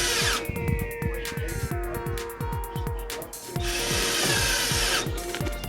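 A power drill drives screws into the wood of a cooler stand for a homebuilt greenhouse, with repeated rhythmic ratcheting bursts, a rising motor whine and wood creaks, close up, pausing briefly before driving again.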